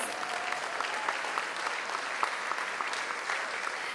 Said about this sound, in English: Why don't we give them one more big round of applause?